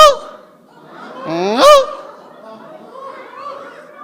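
People imitate geese by pushing air out through the nose and mouth together, producing a nasal, honking call that rises in pitch with a laugh-like edge, loud and close in a small group.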